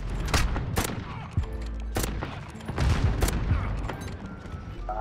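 Shooter video game gunfire: several sharp shots, some in quick succession, over a steady background hum, with a little talk.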